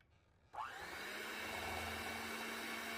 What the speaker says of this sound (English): I'm just going to mix and blend well